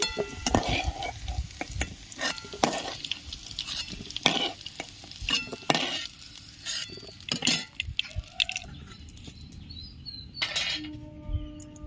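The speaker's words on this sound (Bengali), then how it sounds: "আলুগুলো আমার লাল করে ভাজা হয়ে গেছে আমি এবার তুলে নিচ্ছি" Potatoes fry in a pan with a steady close sizzle. Repeated scraping and clinking stir strokes come every second or two, with no talking.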